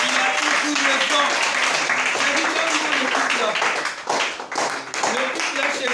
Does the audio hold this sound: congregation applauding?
yes